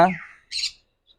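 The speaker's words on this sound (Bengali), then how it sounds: "এখানে রয়েছে কথা বলা ময়না পাখি" A talking myna bird in a Mirpur bird shop gives a harsh, harmonic squawk, then a short raspy burst of hiss and a faint chirp after a pause. The calls are close and fairly loud, with no one talking.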